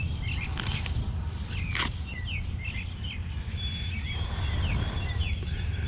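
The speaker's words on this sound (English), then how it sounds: "just listening to the birds." Birds sing in a garden, with scattered chirps and short whistled phrases repeating over a steady low background hum.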